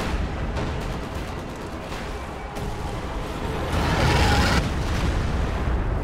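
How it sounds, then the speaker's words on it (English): Artillery fire in Company of Heroes 2, German guns shelling a battlefield during a US and Soviet versus OKW heavy-armor match: a steady wash of rumbling booms and distant blasts, swelling louder near the end, with no voices. "That must be German artillery."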